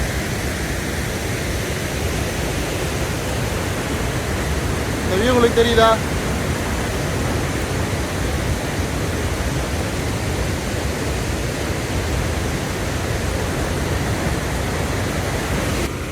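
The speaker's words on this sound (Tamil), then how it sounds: "ஃபால்ஸில் தண்ணி சாரலே இவ்வளோ தூரம் வருதுங்க." Athirappilly waterfall roars as a continuous broadband rush of falling water, loud and steady throughout, while someone briefly speaks over it near the middle.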